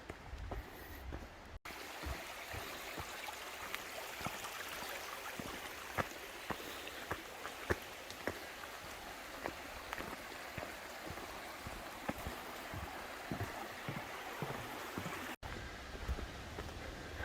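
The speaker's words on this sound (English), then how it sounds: "The sound of running water" A steady, quiet rush of running stream water flows throughout, with occasional faint ticks and knocks.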